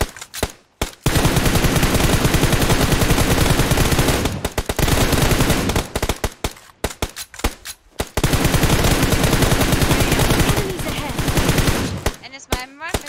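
Rapid bursts of automatic gunfire in a video game rattle loudly and almost without pause, broken by a few short gaps, with faint voices talking over a team chat underneath.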